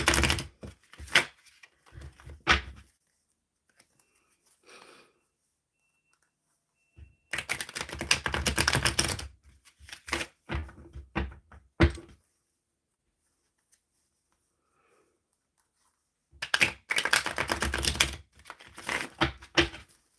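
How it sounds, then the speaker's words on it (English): A tarot deck shuffled in three separate bursts of dense, rapid papery slapping, close and fairly loud, with quiet pauses between them and no voices. "Let's give it a good shuffle."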